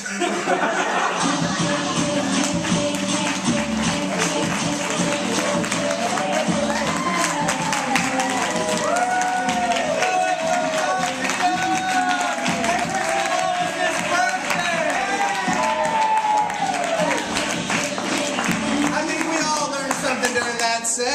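A crowd at a live show laughs, cheers and claps, a loud, dense wash of voices and applause filling the whole stretch, with a voice talking over the noise.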